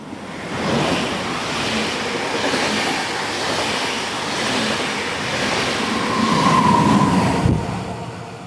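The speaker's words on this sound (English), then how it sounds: "here comes the train" A train rolls into a mountain station with a loud, steady rumble and rushing roar that swells as it nears, then ends in a brief squeal of brakes and a sudden drop in noise.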